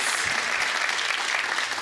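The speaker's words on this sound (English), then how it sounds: "OK, round of applause for Paul." A live studio audience at a comedy stage show breaks into steady, dense applause that fills the whole moment at a constant, loud level.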